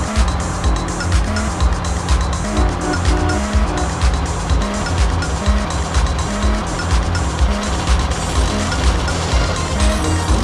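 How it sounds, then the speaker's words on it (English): Car engine roars steadily with repeated tire squeals and skids while driving in Grand Theft Auto: San Andreas; loud and continuous, with a rhythmic low thumping underneath. "Fire up your ride, CJ. We're going cruising."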